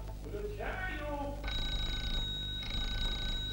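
An electric bell, set off through an early radio receiver during a demonstration, rings out in two sustained bursts, loud and bright, following a brief bit of speech near the start.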